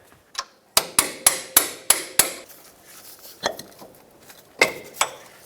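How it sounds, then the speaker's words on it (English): A hammer drives a rusty, seized strut bolt out of its bushing on a 1996-2002 Toyota 4Runner, with a quick run of six sharp metallic taps, then quieter scattered knocks and two more strikes, close and with no talking. "you're going to want to take a hammer and tap it out that way"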